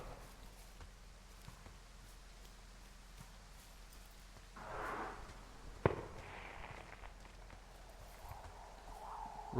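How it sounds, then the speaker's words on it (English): Distant fireworks in the video game Firewatch, a few muffled pops and one sharp crack over quiet outdoor ambience. "the sound of the fireworks is getting louder"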